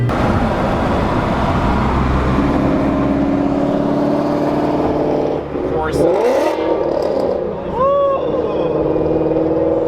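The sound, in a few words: loud car exhaust revving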